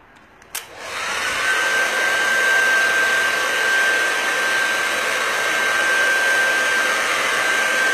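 A hair dryer blows steadily and loudly to dry a relief wood carving, switching on after a brief click and running alone at an even roar with a faint whine.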